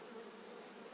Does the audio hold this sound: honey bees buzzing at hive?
yes